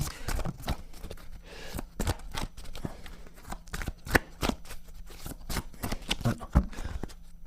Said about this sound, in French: je brasse les cartes